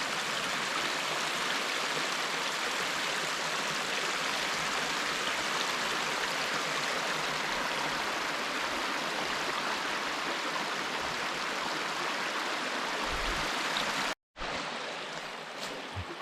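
Steady rushing water flowing over a beaver dam, a loud, continuous broadband wash that fills the whole scene close up, with a brief cut near the end before it resumes.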